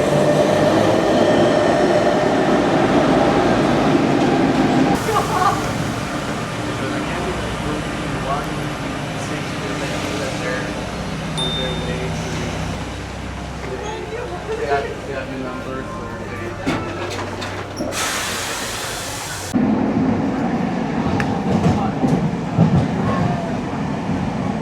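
A Paris RER commuter train rolls into a station with rumbling, rail clatter and a rising hiss, loud and close, with a voice talking over it.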